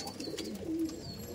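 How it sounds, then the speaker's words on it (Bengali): Pigeons, many of them fancy breeds in a large flock, give a short low coo in the middle of a steady background of soft chirps and rustling, with no talk. "প্রচুর পায়রা আছে"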